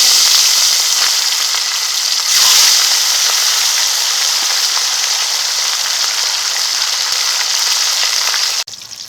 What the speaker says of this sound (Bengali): মাছের একটা সাইড ভাজা হয়ে গেছে গ্রেভিটা দিয়ে আরেকটা সাইড ভেজে নেব